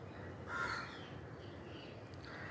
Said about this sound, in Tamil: நம்ம காக்கா வந்து துரத்தி விட்டுச்சு.